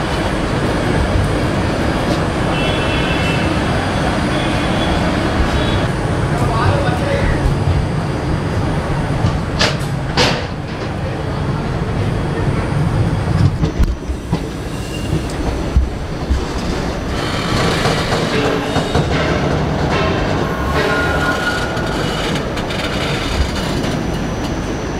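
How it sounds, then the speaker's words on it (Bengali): A passenger train pulls out of the station in Madurai, heard from inside a coach as a continuous loud rumble of wheels and carriages with clanks and rattles building as it gets under way; no talking. "11:55 ছেড়ে দিল ট্রেন"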